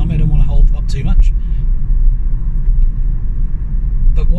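Hyundai Kona Electric accelerating on a road up to a 60 mph limit, a steady low rumble of tyres and motor close by, with a person talking over it at the start and again at the end.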